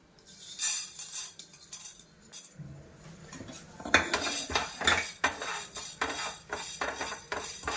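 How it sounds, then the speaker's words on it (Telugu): Dry coriander seeds tumbling into a pan and being stirred for dry roasting over low flame, giving repeated close scraping, rattling and clinking strokes of a utensil against the metal pan, with no talking. "ఫస్ట్ నేను ధనియాలు వేస్తున్నాను"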